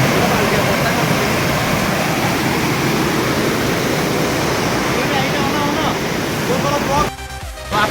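Chaulabhaja waterfall in the rainy season gives a loud, steady rushing roar of falling water that fills the scene without a break and dips briefly near the end.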